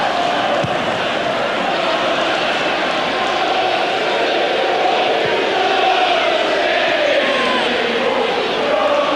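Away supporters of Manchester United, around 1,500 in a 20,000 sellout football stadium crowd at a match against Norwich, roar and chant loudly and continuously, a thick wall of massed voices with no clear break.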